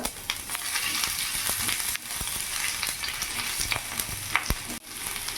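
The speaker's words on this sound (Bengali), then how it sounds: "তেল গরম হয়ে গেছে, এখানে আমি রসুন কুচি দিয়ে দিলাম, তার সাথে আদা কুচি দিয়ে দিলাম।" Chopped garlic and ginger sizzle in hot oil, a continuous bright crackling hiss, fairly soft, punctuated by occasional sharp clicks from a spatula against the pan.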